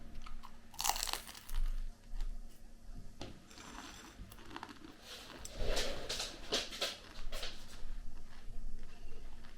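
Crisp Turkish yufka pastry, eaten cold some hours after cooking, gives loud close crunches from repeated bites and chewing, spaced irregularly over the clip with quieter pauses between them.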